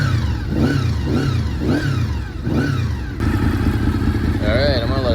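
A Honda VFR800 motorcycle engine idles close by as it warms up, steady and loud, while talk rises and falls over it, with a brief rhythmic warble near the end.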